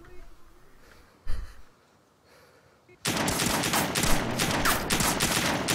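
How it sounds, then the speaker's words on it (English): Automatic gunfire breaks out in the video game DayZ during a firefight at a military tent city, loud rapid bursts filling the second half after quieter sounds and a brief thump, with a voice heard faintly. "Were you just shooting at me?"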